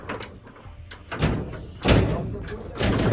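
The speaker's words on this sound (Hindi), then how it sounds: "ये देखो दरवाजा तोड़ने की कोशिश कर रहे हैं" Heavy banging and thudding on a door as people try to force it open, several loud impacts around a second and two seconds in, with voices shouting in Hindi in the background.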